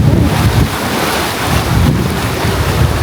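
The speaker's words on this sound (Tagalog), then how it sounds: "Bakas ng hangin dito." Wind gusting across the Ronggot lakeside, a loud, steady buffeting roar against the microphone with low rumbling surges throughout and no voices.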